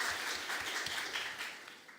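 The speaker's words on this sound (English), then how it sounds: "And an applause," Audience at a panel session on urban transitions breaks into brief applause, a steady wash of clapping that fades toward the end, with no voices over it.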